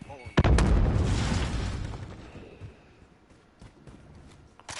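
Grenade blast in a first-person shooter game, a sudden loud boom followed by a rumbling decay that fades over about two seconds, with game voice chatter faintly around it.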